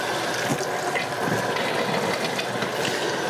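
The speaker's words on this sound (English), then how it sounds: "I'm going to go ahead and run water into the system." Water running into an RO/DI filter system, a steady broad hissing rush of flow, continuous and fairly close, with no talking.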